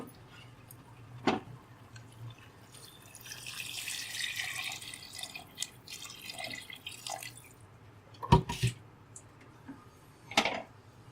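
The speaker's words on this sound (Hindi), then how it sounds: "अब मैं इसके अंदर पानी ऐड करूंगी।" Water is poured into a pot of ground spices and lentils for beef shami kabab, giving a thin, trickling splash for several seconds, with a few sharp clinks and knocks around it.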